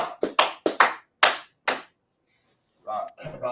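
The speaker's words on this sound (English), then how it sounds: "Oh, clap it up for Marcus" A handful of sharp, separate hand claps ring out in quick succession, close and crisp, followed by a short silence and then people talking.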